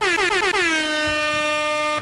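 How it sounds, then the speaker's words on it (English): One loud, close air horn blast with a bright brassy tone that dips in pitch at the start, holds for about two seconds, then cuts off abruptly. "I feel like Annabelle needs an air horn as a departure"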